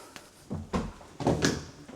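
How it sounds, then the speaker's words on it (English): A person bumps into a door frame during an indoor electrical inspection, with a few dull knocks and thuds close by, spread over about two seconds, the loudest pair coming near the middle. "That's me walking into a door frame."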